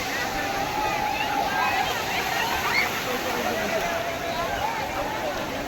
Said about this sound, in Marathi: पाणी